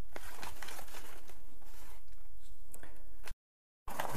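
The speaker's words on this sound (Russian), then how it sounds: "а вот такая вот посылка, точнее распаковка посылки" A parcel from China being unpacked: close crinkling and rustling of packaging with scattered crackles and tears, then a brief silent gap before the crinkling resumes.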